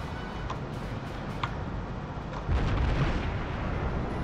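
Naval battle in World of Warships with cruisers exchanging fire, muffled deep booms of ship guns over a constant roaring ocean-and-engine bed, a heavier low thud rising partway through, distant and rumbling.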